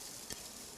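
Chwinamul greens stir-fry in perilla oil with a soft, steady sizzle and one quick stirring scrape partway through, faint overall.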